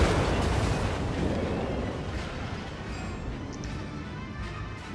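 Heavy naval gunfire from the USS New York, a tier 5 American battleship in World of Warships, lands on a target: a loud, broad boom that rolls out and slowly fades into a rumbling tail.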